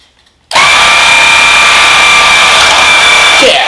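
A new Swivel Sweeper cordless floor sweeper switches on abruptly after a moment of silence and runs with a loud, steady motor whine and whir that holds unchanged to the end.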